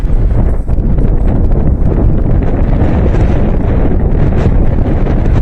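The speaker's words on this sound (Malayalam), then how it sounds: "നല്ല കാറ്റ് വീശുന്നുണ്ട്. അത് പ്രേക്ഷകർക്ക് കൂടി മനസ്സിലാക്കാനാണ് കട്ട് ചെയ്യാതെ ഇടുന്നത്." Strong wind buffets the microphone on a forest mountain road near Devprayag, a loud, constant roaring rush with gusty low rumble and no speech.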